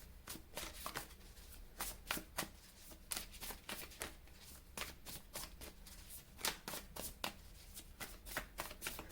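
A deck of Light Seers tarot cards being shuffled by hand, with a quick run of crisp riffling flicks and soft slaps, close but quiet, with no voice.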